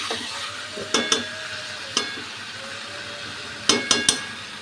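Chicken pieces frying in a pan for Bengali chicken kosha, a steady sizzle broken by several sharp clinks of a spoon stirring against the metal pan.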